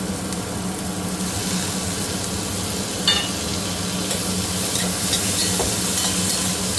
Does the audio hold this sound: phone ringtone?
no